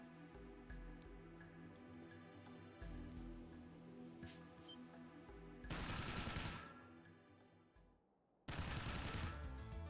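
Video game gunfire in Trails into Reverie, with bursts of rapid shots over a soft musical score, a loud volley midway and another near the end, separated by a brief lull.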